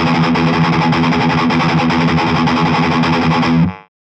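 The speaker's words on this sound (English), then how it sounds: "if I put a more advanced rhythm on my accents, the same 16th notes could sound like this." A loud, close, heavily distorted electric guitar plays fast palm-muted sixteenth-note chugs, with accents placed in a syncopated pattern. The riff runs for about four seconds, then stops sharply.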